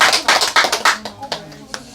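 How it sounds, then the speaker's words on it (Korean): A church congregation claps in praise, a short burst of brisk, close hand claps that thins out into scattered claps under a spoken voice. "우리 하나님께 영광의 박수 올리겠습니다."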